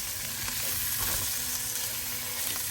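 Fish head and mung dal sauté in a pan with a steady, close sizzle and faint stirring scrapes, a dense, continuous frying hiss without any talking.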